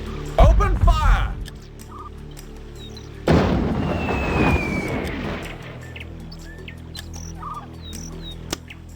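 Bursts of gunfire and booming explosions from the 1998 PC battle game Warhammer: Dark Omen, one sharp blast early, then a heavier rumbling volley midway that fades, with brief shouted voice lines and faint battlefield calls around them.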